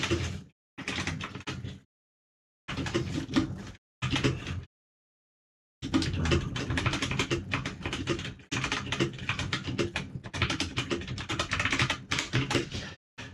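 Fingers type on a computer keyboard in close, busy bursts of clicking and clacking, broken by short spells of silence.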